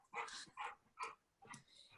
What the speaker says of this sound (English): My dog is being boisterous.